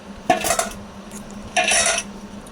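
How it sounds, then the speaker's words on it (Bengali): Two bursts of scraping and clattering in a metal wok as okra and prawns are tipped in and stirred, separated by a short quiet pause. "ঢ্যাঁড়স আর চিংড়ি কড়াইতে দেওয়া হলো"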